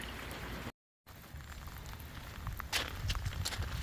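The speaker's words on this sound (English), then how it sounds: "Rainy morning still." Light morning rain patters softly around a docked boat, a faint, diffuse hiss with scattered drips, briefly cut out near the start before resuming.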